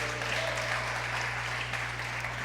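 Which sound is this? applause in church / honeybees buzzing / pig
applause in church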